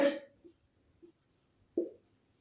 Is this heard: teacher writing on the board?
yes